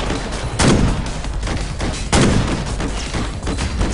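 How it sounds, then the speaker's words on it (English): Two heavy, booming shots go off about one and a half seconds apart in Ghost Recon Future Soldier. Each blast is loud and close and rises over a steady bed of battle noise. "Let's try the sniper rifle."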